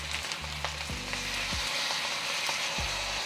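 Kimchi juice hits a hot pan of spam and kimchi fried rice with eggs, raising a continuous loud sizzle, with a few brief knocks and scrapes of a utensil nearby and no talking.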